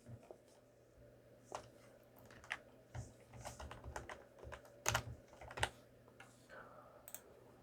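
Quiet, irregular keystrokes on a PC keyboard while a name is entered into an invoice in Google Sheets, with light clicks in short bursts and pauses.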